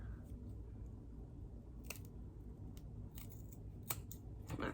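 Scissors snip a flap of lace off a wig in a few soft, close cuts, spaced irregularly over a faint steady background hum.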